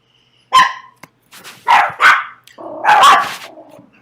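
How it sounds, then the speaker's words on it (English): A dog barks in several sharp bursts, close by and loud, with short gaps between them and a pair of quick barks at the end. "what are you barking at?"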